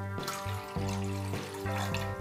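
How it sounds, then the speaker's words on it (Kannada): Water poured into a cooking vessel of milk for ragi malt, a close, continuous splashing stream with a faint ringing tone that breaks off and restarts a few times. "ನೆಕ್ಸ್ಟ್ ನೀರು ಆ್ಯಡ್ ಮಾಡ್ಕೊಳ್ಳಿ."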